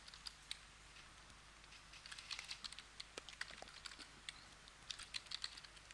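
Keys tapped on a computer keyboard while a date is entered, a quiet run of light clicks in uneven bursts, close and soft over a faint background hum, with no talk.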